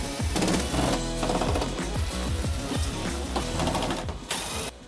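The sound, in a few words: removing T25 Torx screws from F-150 tailgate panel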